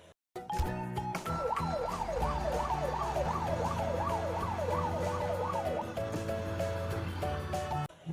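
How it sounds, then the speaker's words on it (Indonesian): A toy fire truck siren wails in rapid rising-and-falling sweeps that then settle into a steadier electronic tone, loud and close, with no talking over it. "Lalu kita juga punya mobil pemadam kebakaran nih teman."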